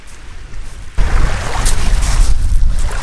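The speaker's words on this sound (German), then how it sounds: "Allein schon das Geräusch von dem Wasser nur, oder?" Running water from a push-button tap on a bicycle-towed camping trailer, a broad rushing noise that kicks in abruptly after a second of quieter ambience and keeps flowing steadily and close.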